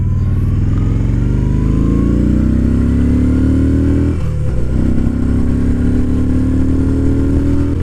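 A 2017 Yamaha SCR950 V-twin motorcycle rumbles loudly and close while being ridden, its deep engine note climbing steadily through the gears with a brief shift dip partway through.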